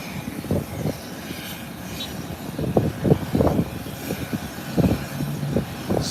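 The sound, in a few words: airplane taking off at airport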